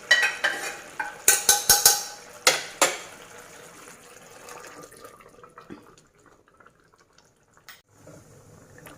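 Cooked cabbage and chana and toor dal tipped into a pan, with a burst of loud clattering spoon-on-pan scrapes and knocks in the first three seconds, then quieter stirring and faint bubbling.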